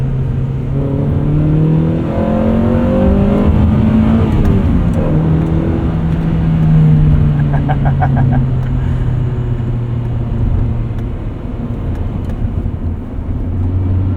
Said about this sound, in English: Let's see if we can get into VTEC one more time here